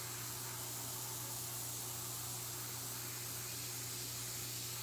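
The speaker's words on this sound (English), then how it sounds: "So as usual, I'm airbrushing and trying to get the world to see what I do" An airbrush sprays paint in a continuous, even hiss with a steady low compressor hum underneath, quiet and unbroken throughout with no talking.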